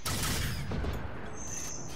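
Rapid gunfire in a video game, a dense sustained burst of shots that stays loud and close for about two seconds with no pauses.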